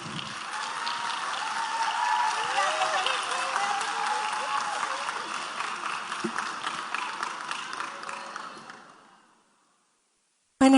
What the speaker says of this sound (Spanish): Así que démosle un fuerte aplauso a Sammy.